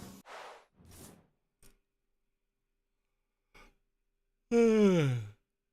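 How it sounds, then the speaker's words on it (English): A person yawns once, a drawn-out voiced yawn that rises and then falls, close and fairly loud. It comes after a few short breaths and sighs with near silence between them. "Sorry I'm yawning so much."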